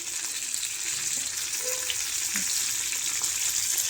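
Masala-stuffed Bhavnagri chillies roasting in a pan, a constant even hiss of frying with a few faint clinks and no voices.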